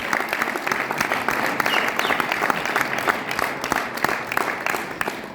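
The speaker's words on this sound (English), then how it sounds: "Can we give 2 of them a big round of applause?" A meeting audience breaks into loud, sustained applause, dense overlapping claps filling the room for several seconds with faint voices mixed in.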